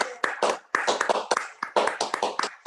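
A small group gives a round of applause in a session, with a few people clapping closely in uneven rapid bursts, sharp claps separated by short gaps, fairly near and clear.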